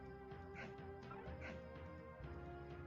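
Video game dog sounds from a Ben 10 game, a character transformed into a dog: a few short yips and barks over a continuous busy game soundtrack.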